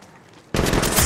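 Automatic gunfire in the mobile shooter Apex Legends bursts in abruptly halfway through, loud and dense, after a quieter stretch of background game noise.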